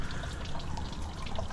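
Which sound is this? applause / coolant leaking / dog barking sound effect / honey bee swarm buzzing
coolant leaking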